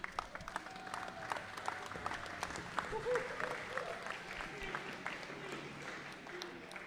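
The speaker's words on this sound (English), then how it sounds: "please everybody give a round of applause to Daryl LaPointe." An audience at a round dance gives steady applause, a dense patter of many hands that carries on throughout at a moderate distance, with some voices and crowd murmur mixed in.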